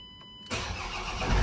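A Mk7 Ford Transit diesel engine cranks and fires on the key after a quiet pause, then settles into a loud, steady, close-up rumble with no talk over it.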